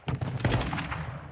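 Gunfire from a sniper rifle in a battle royale video game: a quick cluster of loud, close shots crackling over about a second, then tailing off into fainter echoing reports, with no talk over it.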